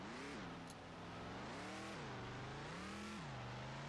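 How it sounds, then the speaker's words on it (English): A truck engine in the video game Ranch Simulator drones steadily and heavily, rising and falling in pitch as it revs, continuous and fairly quiet, with a synthetic, game-like evenness. "Listen to the engine noise, though. It's a powerful truck."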